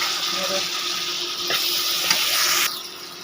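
Onions fried with turmeric sizzle loudly as tomatoes are added to the pan, the hiss swelling briefly with a couple of light knocks before dropping sharply near the end.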